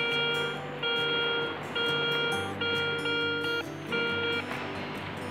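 A metal detector on a beach sounds repeated steady electronic tones, several sustained beeps in a regular on-off pattern over a target, clear above a low background hiss.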